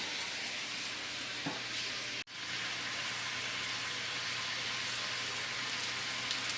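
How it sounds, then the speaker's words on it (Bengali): Cumin seeds sizzle in hot oil for a tempering, a faint, even frying hiss broken by a brief drop to near silence partway through. "তো এবার এর মধ্যে জিরে ফোড়ন দিই।"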